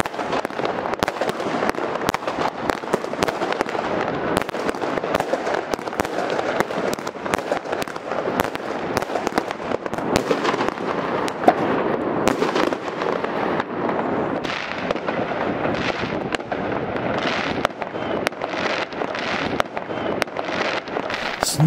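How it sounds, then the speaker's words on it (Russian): Dense, continuous crackle and popping of New Year fireworks and firecrackers outdoors in a residential courtyard at midnight, with rapid overlapping bursts and booms filling the whole stretch at steady loudness. "начали стрелять, фейерверк, салюты"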